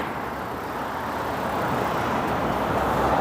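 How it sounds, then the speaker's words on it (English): A car passes loudly along a cold residential street in Toronto, a steady broadband engine and tyre rush that swells toward the end, with no talk over it. "that car sounds sick. That's a sick sounding car."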